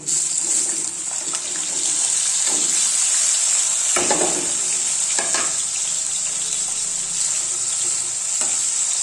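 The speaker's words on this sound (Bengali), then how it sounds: "এখন লাল লাল না হওয়া পর্যন্ত মাছগুলো আস্তে আস্তে জালে ভেজে নেব।" Fish fry in oil in a pan over low heat, a steady loud hiss of sizzling throughout, broken by a few sharper spatters and stirring scrapes.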